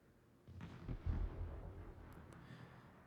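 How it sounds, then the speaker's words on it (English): A high-explosive shell salvo from a warship in World of Warships lands in a short burst of booming impacts, one deep thud following a rising rumble before a fading tail, fairly quiet overall. "Big HE salvo going in on Anase."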